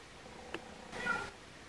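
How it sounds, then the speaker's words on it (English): A cat-like meow comes from inside a ceiling in a garage workshop, a short faint tonal cry after a brief click, heard alone over quiet background hum. "Sounds like there's a cat trapped in the ceiling in here."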